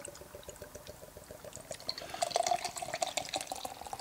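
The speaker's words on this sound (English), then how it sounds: "Gonna get a little bit of a pour Get here. a nice pour going." Coffee cream ale poured from a bottle into a glass, with a gurgling trickle that grows into a fuller, fizzing pour partway through. Close and clear, with no talking.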